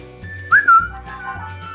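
A person whistles near a phone to set off a finder app alert, a short sharp rising-then-falling whistle over a low steady hum, close and clear.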